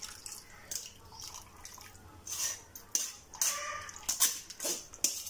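Water dripping and trickling from cooked rice being drained in a home kitchen, faint scattered splashes and small bursts of dripping, quiet and close with no talk.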